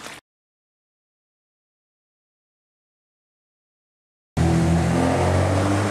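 Busy road traffic near a riverbank, a dense steady roar of passing cars that cuts in abruptly after several seconds of silence.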